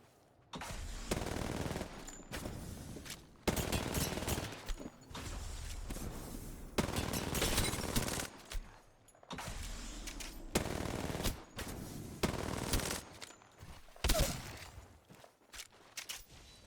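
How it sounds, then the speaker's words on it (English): Bursts of gunfire from Apex Legends warm-up practice with Pathfinder, rapid automatic fire in several separate volleys with short gaps between them, fairly quiet throughout, no voices. "try to hit shots with Pathfinder"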